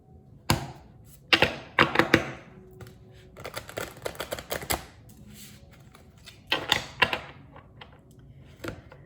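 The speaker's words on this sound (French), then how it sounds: "je vais vous prendre quelques cartes" Playing cards from a deck being shuffled and drawn, close and crisp with clusters of sharp taps, riffles and slaps separated by brief pauses.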